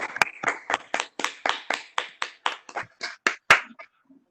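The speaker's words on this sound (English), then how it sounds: "Let's have one more round of applause for all the kids." Roughly a dozen distinct hand claps ring out at a steady beat, close and clear, as a small online meeting gives the children one more round of applause, then they stop and fall quiet.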